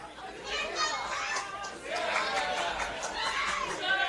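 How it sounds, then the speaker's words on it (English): A live women's wrestling crowd jeers and murmurs at Davina, its noise rising and falling in two or three surges, with a commentator's voice audible through it. "Crowd already letting Davina hear it."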